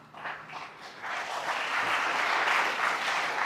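Audience applause at a men's conference, a dense burst of clapping that starts a little patchy and quickly swells into steady, full applause filling the hall.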